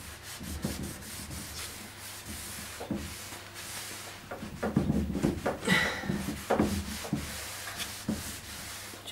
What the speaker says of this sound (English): Rubbing it in so it just picks out the colour. Keep in line with the grain